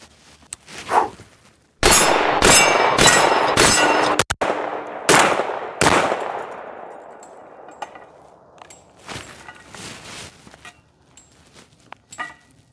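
A shotgun fitted with a shell-holding placard loaded brass down fires several loud, sharp blasts in quick succession, each followed by a ringing decay, then fainter clinks and handling noise.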